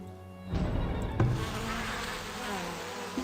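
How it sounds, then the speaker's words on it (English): Bees buzzing in the video game Farthest Frontier, a steady insect drone that swells after the first half-second and holds at a moderate level throughout, with a brief thump near the middle and no talk. "Yeah, we've got the bees going there."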